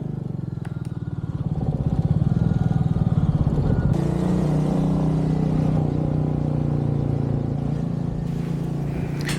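Royal Enfield Meteor 350 motorcycle, a 350 cc single of about 20 hp, riding on a warm early-June road trip to Italy; a steady, loud engine drone with low thumping harmonics, shifting pitch around four seconds as the rider changes gear.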